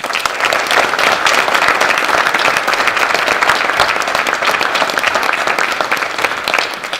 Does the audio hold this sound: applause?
yes